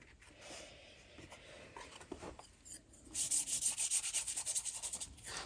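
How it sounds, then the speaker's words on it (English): A cheap brush sweeps across watercolour paper to wet it, giving a run of quick rhythmic scratchy strokes up close after a quieter stretch of faint rubbing. "So I'm going to wet the paper, and I just got a really cheap brush here."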